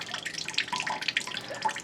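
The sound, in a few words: faucet dripping out remaining water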